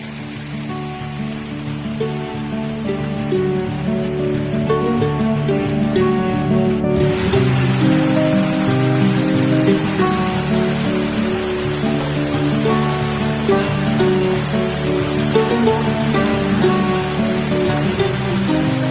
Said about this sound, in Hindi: यहाँ से आ रहा है ठंडा ठंडा पानी।